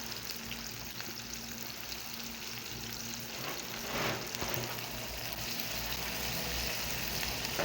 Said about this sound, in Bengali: তেল গরম হয়ে গেছে পেঁয়াজ দিয়ে দিতেছি